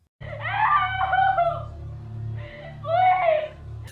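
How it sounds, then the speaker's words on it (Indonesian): A tortured woman screams and cries out for help in a horror film, shrill wailing bursts over a low steady drone, one long outburst then a shorter one after a brief pause. "menampilkan seorang wanita yang sedang disiksa dan berteriak minta tolong"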